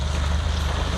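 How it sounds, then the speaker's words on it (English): A fishing boat engine idling steadily, a low continuous rumble mixed with wind buffeting the microphone outdoors on the water. "So now that the engine's running, we're just going to put her in gear"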